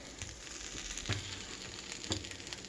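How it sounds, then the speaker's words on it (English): Food sizzles steadily in a frying pan as a knife stirs it, with two brief scraping clicks of the blade against the pan standing out over the constant frying hiss. "I'm just going to stir this up with the knife."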